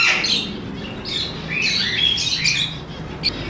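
Zebra finches, crested finches and parrots in a bird shop in Multan, with busy overlapping chirps and squawks close by, steady and continuous with no talk.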